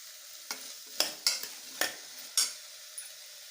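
Vegetables, including beans and tomato, are stirred in a frying pan for a coconut-milk veg pulao. Several scraping stir strokes come in an irregular rhythm over a soft, steady sizzle, with no voices.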